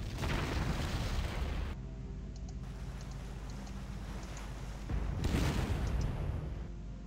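Battleship naval bombardment in a D-Day video game: heavy, rumbling blasts roll in as two loud bursts, one at the start and another near the end, with a quieter low rumble in between.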